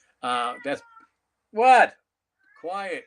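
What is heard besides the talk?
blind cat meowing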